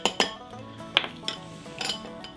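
A bowl clinks and scrapes sharply and intermittently while seasoning is mixed into flour for crispy fried onions, faint and close, with no voices.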